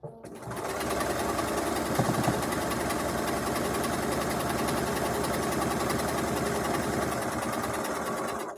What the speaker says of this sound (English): I have a setting on my machine on my foot pedal that if I push down with my heel, it'll automatically cut my thread